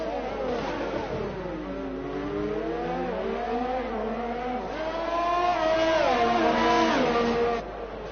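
Race car engines drone and rise in pitch on the Baku circuit in a sim racing game, a steady close whine that swells toward the end while a voice talks over it.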